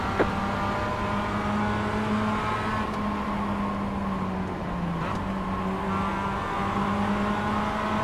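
A Mazda race car engine in the iRacing sim at Virginia, a steady droning hum held throughout with small pitch shifts, close and continuous, with no voices.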